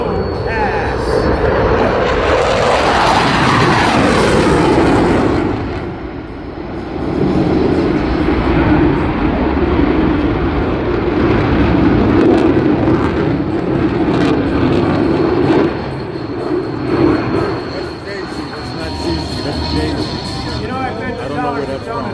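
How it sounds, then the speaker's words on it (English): An F-15 fighter jet makes a high-speed low pass at the First State Airshow, its engine roar swelling loud and then fading into a long rumble. Crowd noise and talking run throughout. "Here's the F-15 in a high-speed no pass."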